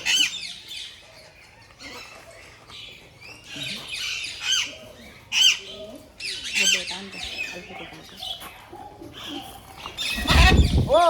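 Large, colourful birds squawk loudly and close by in repeated harsh bursts, with someone talking between the calls.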